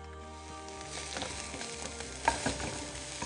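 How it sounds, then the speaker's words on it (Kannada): Onions frying in a pan, giving a soft, steady sizzle with a few sharper crackles and stirring clatters toward the end, close and moderately quiet, with no talking. "ಇದರಲ್ಲಿ ಆನಿಯನನ್ನು ಫ್ರೈ ಮಾಡೋಣ"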